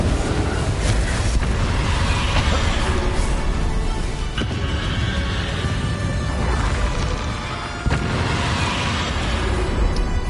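Confringo fire spell explosions in the video game Hogwarts Legacy, a dense, loud wash of blasts and crashing rumble with sharper hits around a few moments, continuing for ten seconds without a break.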